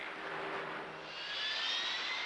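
A jet aircraft spools up to full takeoff power on a Royal Navy carrier deck, a loud sustained roar with a rising whine that builds steadily, with no talking over it.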